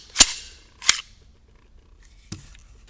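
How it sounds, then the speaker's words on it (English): The slide of an XDM pistol comes off in a few sharp metallic clicks and snaps up close, two in quick succession followed by a softer click after a pause. "we're going to take the slide off"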